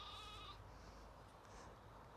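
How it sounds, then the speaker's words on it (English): A mountain sheep gives one short, faint bleat far off in open upland near Pen-y-Pass, followed by quiet wind and background hush. "Mountain sheep."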